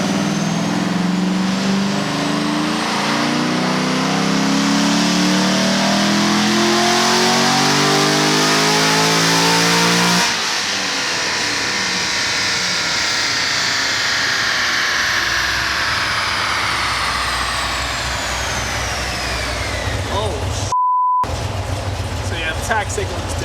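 A 1,200 whp twin-turbo Corvette Z06 on a dyno, engine roaring loud and close as revs climb through a long pull, then dropping off into a rumbling deceleration with turbo whoosh, voices faintly audible beneath.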